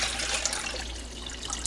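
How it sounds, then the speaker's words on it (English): Four cups of water poured into a saucepan for hummingbird food, a short continuous splashing pour, close and fairly loud, with no talk. "I've got 4 cups of water I'm going to add to my saucepan"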